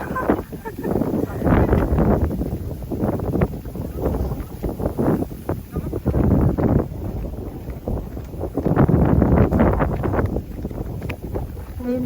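Wind gusts buffet the microphone in uneven surges near a hillside cave at Sung Wan Cave in Pagbilao, rising and falling in rough waves as people chatter intermittently underneath.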